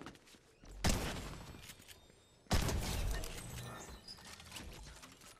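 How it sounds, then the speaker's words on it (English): Two loud, sharp shotgun blasts in the Fortnite video game, about two seconds apart, each followed by a short decaying crash, with game noise between the shots. "had to use my shotgun there at the end to take him out"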